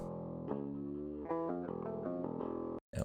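Electric guitar through a TSE 808 overdrive plugin with drive at minimum, volume maxed and tone centred for a mid boost, playing sustained chords with mild crunch, alone and loud, cutting off briefly near the end.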